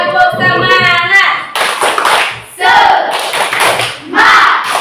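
An Indonesian school class claps a rhythmic 'tepuk semangat' cheer, loud bursts of hand claps in patterned groups alternating with children and a teacher chanting along, close and energetic.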